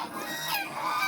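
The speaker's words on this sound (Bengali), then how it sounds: "এই হাঁসগুলো আমার ভিডিও তোলা দেখে আমার পেছন পেছন এমন ধাওয়া করেছিল" Ducks honking in a single short, nasal call, close and moderately loud, with no one speaking.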